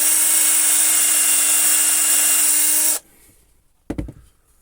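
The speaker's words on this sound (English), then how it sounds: "roughly where I want it and drill a hole." A power drill bores a hole into a slice of wood with a loud steady whine for about three seconds, then stops, followed by a few brief knocks and rattles as the bit is withdrawn.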